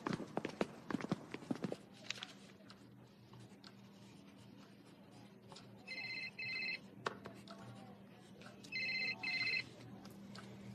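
A telephone rings inside a school building, two short bursts of electronic trilling some distance away, set against footsteps and background clatter.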